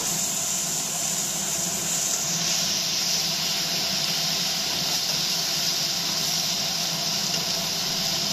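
Garlic paste frying with browned onion in a pan, a loud steady sizzling hiss that continues unbroken, with no talking.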